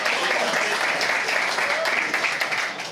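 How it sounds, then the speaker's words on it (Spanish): Steady audience applause at a nativity-scene craft workshop, continuous dense clapping throughout with no pause. "Un aplauso, por favor."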